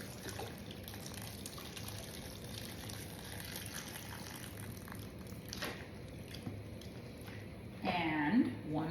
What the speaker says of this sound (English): I'm going to add 1 quart of beef stock.